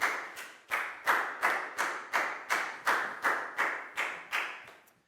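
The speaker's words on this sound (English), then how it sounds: "a big round of applause for Pat" A school class claps together in a steady rhythm, about eleven evenly spaced loud group claps, close and with no talk.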